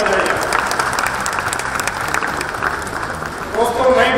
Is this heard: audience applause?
yes